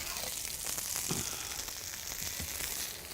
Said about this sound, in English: just while I finish browning the sausages